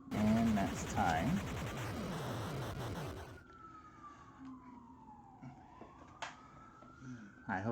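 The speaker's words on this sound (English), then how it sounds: "Sorry about the sirens." An emergency vehicle siren wails in the background, rising and falling faintly at a distance under a voice speaking and game music. Once the music stops, the siren carries on alone.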